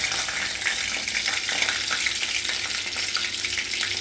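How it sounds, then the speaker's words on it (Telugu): Green chillies frying in oil in a pan give a steady, dense sizzle with small crackling pops throughout, close and fairly loud, with no voices. "అందులో ఆయిల్ వేయాలి. పచ్చిమిరపకాయలు వేయాలి."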